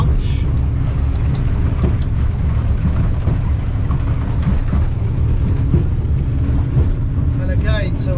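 A motor boat with Zipwake trim planes at 22 knots, its engine a loud, steady low roar mixed with rushing water and wind buffeting, while someone talks over it.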